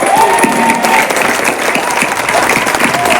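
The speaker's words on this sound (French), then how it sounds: "Applaudissez-vous." Loud audience applause fills a theatre after an Afro-Caribbean musical comedy performance, a thick wash of clapping and crowd noise with music playing underneath throughout.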